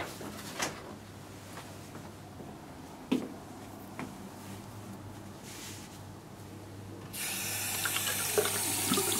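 Tap water runs steadily in a quiet room with a door closed, a low constant flow with a few small knocks, then swelling into a louder, brighter gush near the end.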